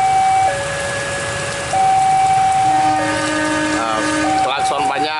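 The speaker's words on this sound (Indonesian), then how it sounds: "Klakson panjang" A long, loud horn from a double-headed CC203 locomotive blares in sustained tones that shift pitch a few times, with a rumbling parcel train underneath in rain.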